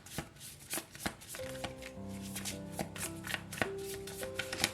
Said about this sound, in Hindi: शफल कर लेते हैं